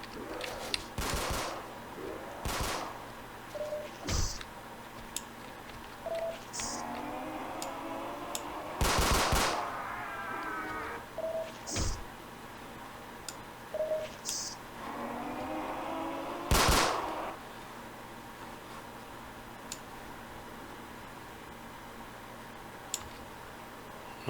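Rifle fire in a zombie video game comes in repeated short bursts of rapid shots, spaced apart with quieter stretches and small clicks between them, ending in sparse single taps.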